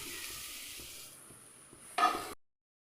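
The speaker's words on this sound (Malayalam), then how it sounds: "അതേ സെയിം നെയ്യിലേക്ക് തന്നെ നമ്മൾ തേങ്ങ ചേർത്ത് കൊടുക്കാം." Grated coconut hits hot ghee in a pan with a steady close sizzle, which bursts louder near the end before cutting off abruptly.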